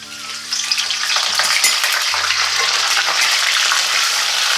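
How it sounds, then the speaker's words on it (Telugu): Cumin seeds and curry leaves dropped into hot oil, a loud, steady sizzle and crackle that swells within the first second and holds without a break. "ఆయిల్ వేసుకొని ఆయిల్ బాగా మరగనివ్వండి కొంచెం జీలకర్ర వేసుకుంటే జీలకర్ర కొంచెం కరివేపాకు"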